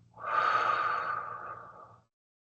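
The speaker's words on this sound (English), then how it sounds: "inhale, hold, and exhale" A single slow, breathy exhale through the nose or mouth during a guided breathing exercise, rising quickly and tapering off over about two seconds into silence.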